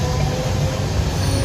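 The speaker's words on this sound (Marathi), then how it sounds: "आपल्याबरोबर एक ट्रेन पॅरलर गेली पुढे, स्लो होती बोरिवली किंवा विरार" A slow Mumbai suburban local train bound for Borivali or Virar runs on a parallel track, giving a steady loud rumble and clatter of wheels on rails heard from aboard a moving train.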